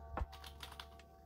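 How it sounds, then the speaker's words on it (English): Keys tapped on a computer keyboard while writing Roblox Studio code, a quick run of soft, close clicks opening with one firmer thump, no talking. "let's get our part by typing dot again and typing the name of our"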